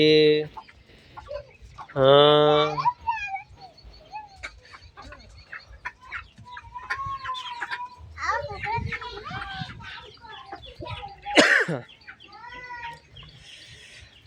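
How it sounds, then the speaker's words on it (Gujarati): Native desi chickens and roosters cluck and squawk around in a village, including a loud crow near the start, while people chat nearby. "આ બધા મરઘા છે નાના મોટા"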